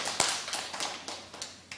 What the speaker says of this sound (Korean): 우리 모두 위해서 박수 한번 쳐주시기 바랍니다.